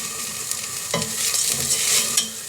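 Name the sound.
onion and rice sizzling gently in pan for saffron risotto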